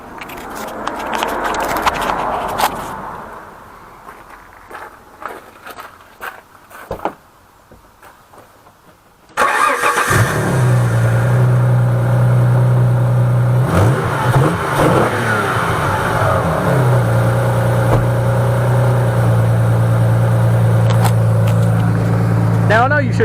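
A cold Alfa Romeo GTV Spider V6 Busso engine cranking, catching and then idling and revving strongly at close range, after some handling noises in a workshop while someone talks.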